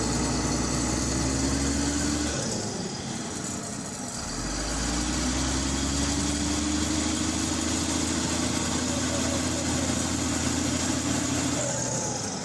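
A tractor engine idles close by in a steady, loud low rumble with a droning hum, briefly dipping and shifting in tone before settling back to an even idle.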